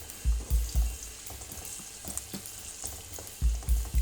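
Roughly cut onions frying in a pan toward golden brown sizzle steadily, while repeated low thumps and scrapes of a spatula against the pan come in bursts near the start and end.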